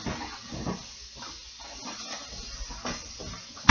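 Food browning in a pan gives off a steady, soft hiss with light clatter and a brief louder burst at the end, no one talking.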